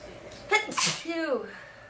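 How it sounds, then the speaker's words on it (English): A single close, sharp sneeze from someone with a cold, a quick inhaled buildup followed by a forceful burst and a short groan after. "Feels good to sneeze though."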